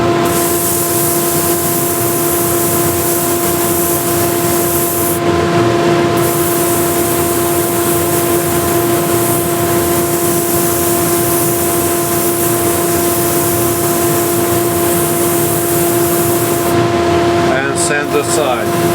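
A handheld power sander runs in reverse against a surface, a loud steady whir with a sustained tonal hum, briefly interrupted twice, with speech heard over it.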